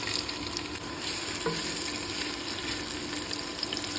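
Sliced onions frying in hot oil for a simple home lunch, a dense constant sizzle with faint stirring, close and even throughout with no voice.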